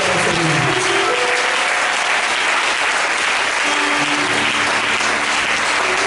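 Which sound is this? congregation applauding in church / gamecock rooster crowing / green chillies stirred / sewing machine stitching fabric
congregation applauding in church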